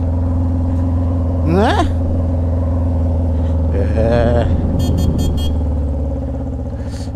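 A Yamaha XJ6 motorcycle with a stainless steel 304 Atalla exhaust and four new spark plugs, running a little rough, idles with a steady low, throbbing hum. Brief talk drifts over it, and the engine softens slightly near the end.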